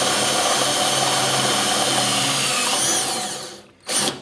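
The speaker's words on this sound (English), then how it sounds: "So we're gonna get step drill out and drill a 1/2 inch hole for that." A step drill bores a half-inch hole through the steel lid of a Weber kettle grill, a steady loud whine grinding on for about three seconds before cutting off, with a brief burst after a short pause.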